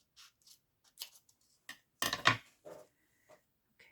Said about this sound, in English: now we're going to go ahead and cut across here